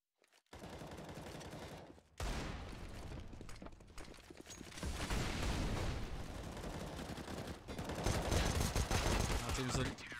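Rapid bursts of pistol fire from a competitive esports video game match between Nova and EPG, dense and loud across the whole stretch after a brief quiet start, layered with game effects and a commentator talking.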